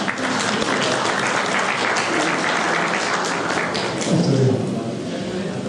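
At a sports gala in Puck, a crowd claps in sustained, dense applause throughout, loud and close, with a voice speaking briefly over it toward the end.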